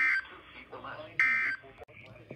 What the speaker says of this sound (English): weekly test of the New Weather Radio Warning Alarm